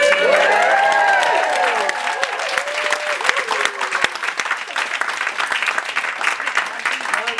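A wedding crowd bursts into loud applause, sustained clapping with some cheering and chatter mixed in, gradually settling into steadier, slightly softer clapping.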